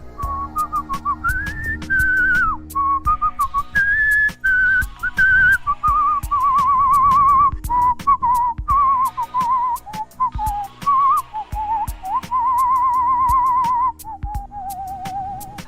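A person whistles a song alone, with a clear, steady, wavering melody and some vibrato, fairly loud and close, running continuously with short breaths between phrases.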